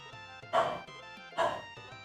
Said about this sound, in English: Oh, Lila is barking outside